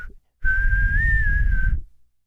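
A person whistles an imitation of the whistle from a song: one long sustained clear note with a slight lift in pitch midway, close and alone after a brief opening chirp.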